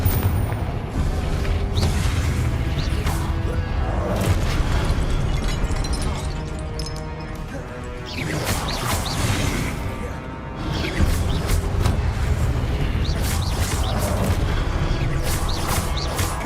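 Repeated Confringo blasting-curse explosions from the game Hogwarts Legacy, several loud booming bursts with crackling debris spread over a dense, sustained roar of game action and music.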